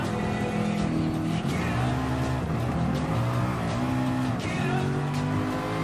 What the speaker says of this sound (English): Prototype race cars are really hard to race on Fuji Speedway